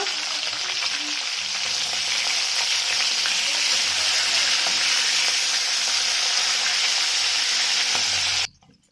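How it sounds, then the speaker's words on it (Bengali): Hilsa fish heads fry with salt in a pan, giving a loud, steady close sizzle that holds for several seconds and then cuts off abruptly near the end, with no one talking. "নুনটা দিয়ে মাথাগুলো দিয়ে ভেজে নেব"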